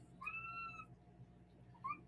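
A cat gives two meows: a clear, drawn-out one near the start and a shorter one at the end, both fairly quiet, with a low, faint background between them.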